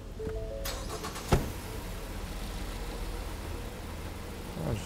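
A car engine idles steadily after starting during an ignition coil primary voltage test, with a sharp click early on and a low continuous hum throughout, no speech.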